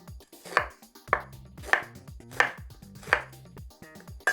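A knife chops and dices zucchini on a cutting board in a Korean home kitchen, with about six close, crisp chops at a steady, unhurried rhythm and no speech.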